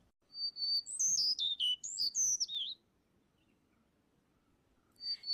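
A run of high, clear whistled bird territorial calls, made only in breeding season, rising and falling in quick succession, then a pause before the calling starts again.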